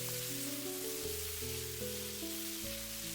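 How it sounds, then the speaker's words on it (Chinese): Tomatoes with a little salt being stir-fried quickly in a wok: a steady, even sizzle underneath background music. "要想西红柿快速炒出沙，炒出汤汁，往里面加入小半勺的食盐，快速翻炒"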